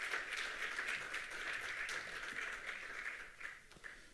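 Conference audience applauding as a speaker stands to join the panel at an international colloquium, a steady mass of many hands clapping at moderate distance, fairly soft and even, tapering slightly toward the end.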